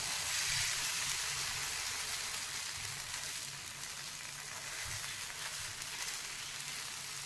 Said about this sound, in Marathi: तवा गरम झाला की आपण आता ह्याच्यामध्ये पराठ्याचं बॅटर घालूया असं मोठा चमचा भरून बॅटर घालायचं